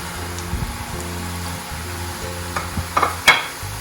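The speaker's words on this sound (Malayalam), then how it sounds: "ചൂടായി കിടക്കുന്ന ഓയിലിലേക്ക് ഈ കുബൂസ് കട്ട് ചെയ്ത് വെച്ചത് ഇട്ടെടുക്കാം" Pieces of cut kuboos fry in hot oil with a soft, steady sizzle and low bubbling, broken by a few sharper crackles and stirring sounds near the end.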